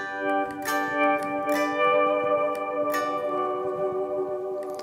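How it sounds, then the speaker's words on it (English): Sustained electric guitar notes through an EarthQuaker Devices Dispatch Master reverb and delay pedal into a Two Rock Classic Reverb amp ring out with long, shimmering reverb and echoing delay tails, soft plucks repeating over a wash of lingering tone. "just some really beautiful, long reverbs and delays"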